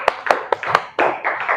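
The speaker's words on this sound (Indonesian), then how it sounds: "Oke, bagus. Berikan tepuk tangan." Classroom clapping for a student, a few sharp separate claps that run together into a brief burst of applause.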